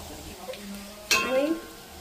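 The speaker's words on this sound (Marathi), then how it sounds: "हे बघा तेल तापलंय, कढीपत्ता टाकलाय त्याला मध्ये." Curry leaves hit hot oil in a pan for amti, giving a sudden close crackling sizzle that fades over a second, after faint clinks, with no talk over it.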